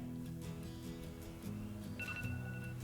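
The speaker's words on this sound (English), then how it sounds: "Not sure if you can hear it, but that timer has gone off." A phone timer alarm rings faintly in a home kitchen during muffin baking, a soft repeating electronic tone behind background hum.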